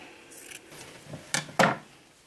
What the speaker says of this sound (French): je vais prendre ma paire de ciseaux et couper à ras